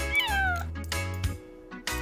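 A cat meows several times in a row: loud, close, drawn-out calls with wavering pitch, heard clearly with no talking over them.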